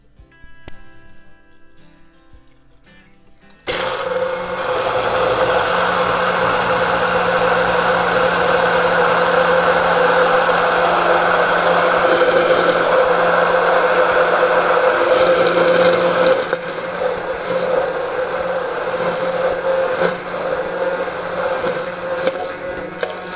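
A blender whirs loudly and steadily for about twenty seconds, emulsifying oil into mayonnaise for a Russian potato salad with monkfish, its tone shifting slightly partway through.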